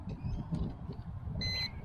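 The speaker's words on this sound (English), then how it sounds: "we've got an indication of the beep" A LYZRC L600-1 Pro GPS drone emits a short high electronic beep near the end during compass calibration, faint over a low rumbling background.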